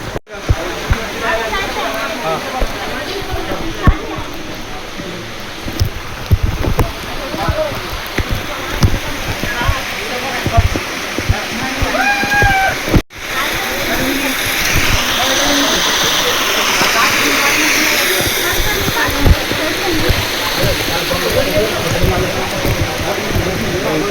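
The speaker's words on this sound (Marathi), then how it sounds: "आपण बघू शकता तिथनं याचं पाणी निघतं" Water rushes steadily from the source at the main Brahmagiri temple, a constant close wash of flow with faint voices mixed in.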